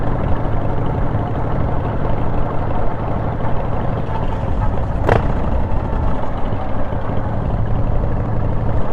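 A Harley motorcycle engine drones steadily while riding, mixed with rushing wind noise and a single sharp click partway through, with no voices.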